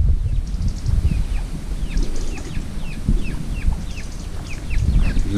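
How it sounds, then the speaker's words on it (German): Chickens and chicks on a small farm in Portugal: repeated high, thin peeps from chicks sound over low clucking and scratching close by, steady across the moment. "Da sind schon 2 Küken."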